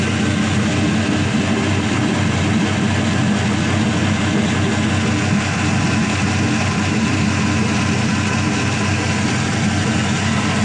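A 5.3L LS truck V8 engine on a test stand runs steadily at idle, a loud continuous rumbling roar with a constant low throb, heard up close without any talking.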